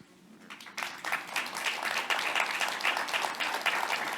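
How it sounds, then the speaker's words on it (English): An audience at a forum on inclusive sexuality breaks into applause, sparse claps at first quickly swelling into dense, sustained clapping from a full room, heard fairly close and without talk. "So yes, I applaud you."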